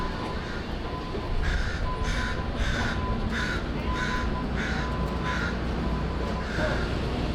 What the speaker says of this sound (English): That crow's pretty upset.